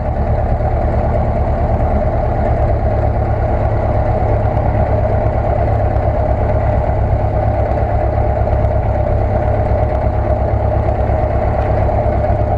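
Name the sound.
Luscombe 8A airplane engine while taxiing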